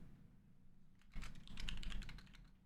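Typing on a computer keyboard during a casual chat stream: a quiet run of rapid key clicks starting after a second of near silence, clattering steadily to the end with no talking.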